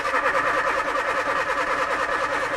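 Outspan Orange car's engine turning over on the starter motor without firing, a rapid rhythmic churning that repeats evenly, close and steady.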